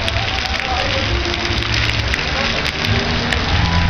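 Heavy rain falls continuously at an outdoor family celebration for Mother's Day, a close, constant rushing patter of drops on surfaces with a few sharper splashes and no clear speech.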